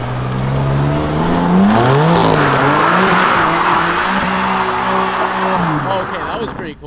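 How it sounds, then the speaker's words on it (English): A car doing a rolling burnout in an empty parking lot at night: a loud, close engine revs and rises while the tires squeal steadily and continuously throughout. "He did a rolling burnout just now, but he needs to learn how to drive."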